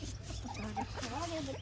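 Small puppies whimper and yip in short high whines close by, with a person talking over them.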